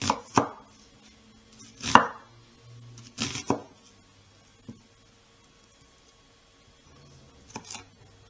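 A knife slicing vegetables thinly for pickles on a cutting board, a few separate sharp chopping strokes spaced out irregularly, close and crisp against a quiet room.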